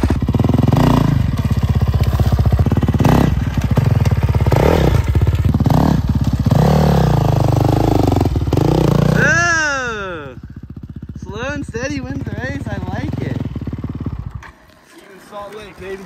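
Dirt bikes ripping through a forest, a loud revving motorcycle engine roaring continuously up close with clatter and thumps over the terrain, then engine tones sweeping and fading as bikes pass, with people talking over it.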